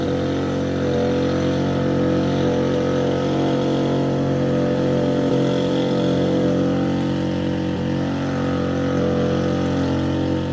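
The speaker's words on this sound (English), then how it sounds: "Blow the leaves and get done." A leaf blower next door drones loudly and steadily for the whole stretch, a continuous engine roar with no breaks.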